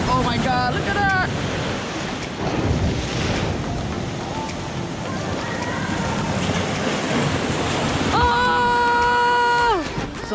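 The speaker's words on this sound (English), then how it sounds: "Oh my god, the waves are so strong" Strong ocean waves at rainy Cathedral Cove beach roar and wash in continuously, buffeted by heavy wind noise, while voices exclaim and speak over the surf.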